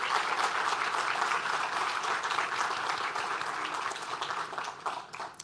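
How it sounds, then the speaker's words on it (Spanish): Audience applause welcoming Professor Francisco at an architecture lecture, a dense, sustained clapping from a full room that holds steady for about five seconds before thinning out at the end. "Quería pedirle un aplauso, por favor, de bienvenida al profesor Francisco."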